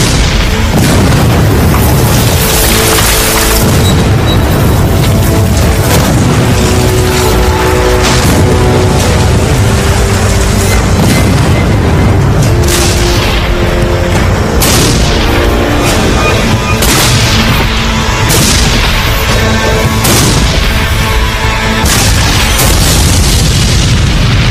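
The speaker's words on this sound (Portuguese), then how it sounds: "Era a maior barragem de artilharia da história do hemisfério ocidental." Massive artillery barrage at the Battle of Gettysburg, heavy cannon booms firing one after another over a loud continuous rumble and dramatic music, sustained and overwhelming throughout.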